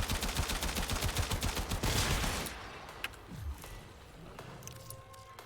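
Rapid assault rifle fire in the video game Warframe, a fast rhythmic burst of many sharp shots for about two seconds, followed by quieter game effects and a fading tail.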